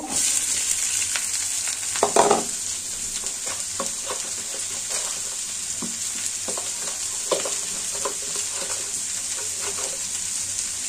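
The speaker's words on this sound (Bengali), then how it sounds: "পেঁয়াজ ভাজা হয়ে গেছে, জালি কুমড়াটা দিয়ে দিব।" Chopped ash gourd hits hot oil with fried onion, giving a continuous sizzle with intermittent scraping stirs of a spatula against the pan, fairly close and steady over the whole stretch.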